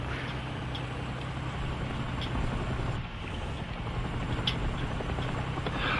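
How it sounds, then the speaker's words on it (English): A helicopter in the War Thunder video game drones as a steady, moderately distant rotor and engine hum, with faint intermittent clicks and no talking. "All I heard was a helicopter and I immediately got happy."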